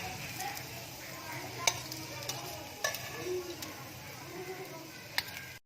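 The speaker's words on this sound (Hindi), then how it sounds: "और इनको फ्राई होने के लिए छोड़ देते हैं।" Aloo kabab frying in hot oil gives a steady, moderate sizzle, with a few sharp clicks and taps from a utensil against the pan scattered through the crackle.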